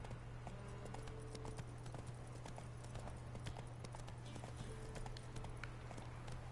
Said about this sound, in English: I will just make my horse run